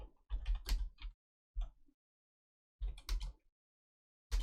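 Bursts of typing on a computer keyboard during a programming lesson, with three quick clusters of close, crisp key clicks separated by pauses and a lone keystroke at the end.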